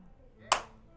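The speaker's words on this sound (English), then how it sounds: "go ahead and do your clap" One sharp hand clap, close and fairly loud, sounds once in an otherwise quiet room.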